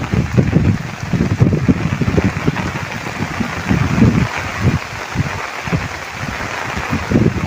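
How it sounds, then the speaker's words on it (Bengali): Heavy rain pours steadily over flooded farm fields, a dense continuous hiss with rumbling wind buffeting the microphone throughout and no talking. "প্রচুর বৃষ্টি হচ্ছে"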